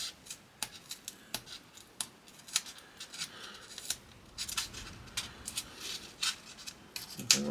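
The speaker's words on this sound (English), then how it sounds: "Just come in, cut a little edge in, and then just rip it out really, so it's not so smooth." Cutting and ripping material for a small scale-model diorama, close sharp snips and crisp tearing bursts repeating irregularly, quiet and alone.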